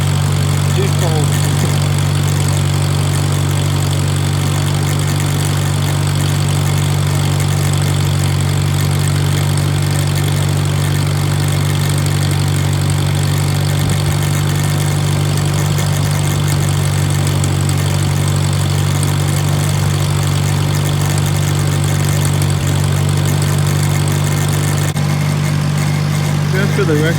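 An old diesel tractor engine idles after a cold start on a snowy day, with a steady low rumble throughout and a person talking over it.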